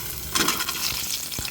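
Chopped onion pieces frying in hot oil in a pan, a steady close sizzle with scraping stir strokes and a couple of brief clinks over the crackle.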